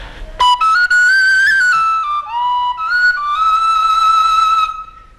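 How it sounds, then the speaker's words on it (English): An Irish penny whistle plays a lively melody alone, clear and close, with bright sustained notes, quick ornaments and a few short breaks. "this is a flute known as the penny whistle"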